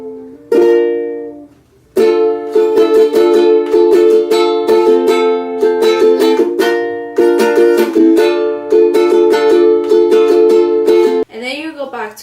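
Ukulele strumming chords in a rhythmic pattern, close and bright, with a brief pause after the first chord and a quick sliding sound at the end.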